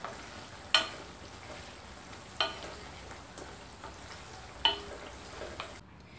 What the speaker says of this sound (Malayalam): ഇനി മീനിട്ട് കൊടുത്തിട്ട് നന്നായിട്ടൊന്ന് ഇളക്കാം